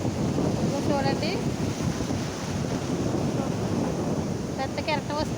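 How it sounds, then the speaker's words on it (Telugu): A big ocean wave rolling in and breaking on a beach, a broad roaring wash of surf mixed with gusty wind noise, with a voice speaking briefly over it. "పెద్ద కెరటం వస్తుంది. చూడండి సౌండ్ చూడండి ఫ్రెండ్స్."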